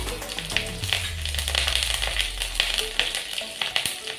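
Five slit green chillies fried in hot oil with black cumin for a fish-head taro curry, a loud steady sizzle with crackling pops and occasional stirring clicks.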